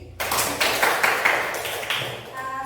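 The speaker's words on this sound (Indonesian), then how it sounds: "Sekarang tepuk tangan untuk diri sendiri." A classroom of students clapping together, a short burst of sharp, fairly close hand claps that fades out toward the end.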